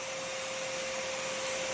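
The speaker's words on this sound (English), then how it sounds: "they get sucked right into the vacuum" Steady, loud vacuum suction pulling insects out of a nest through a long nozzle, a continuous whooshing drone with a fixed whine, no voices.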